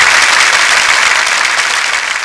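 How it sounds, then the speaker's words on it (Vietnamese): An audience at a 2019 district song and dance festival in Ninh Giang, Vietnam, breaks into loud, sustained applause, many hands clapping together evenly throughout. "Xin hãy cho một tràng pháo tay để cổ vũ cho đơn vị xã Hồng Phong."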